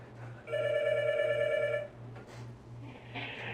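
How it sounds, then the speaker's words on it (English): A telephone rings once with a bright trilling electronic tone during a radio call-in show, fairly loud over a low steady hum, followed by brief background noise. "Oh, a phone call."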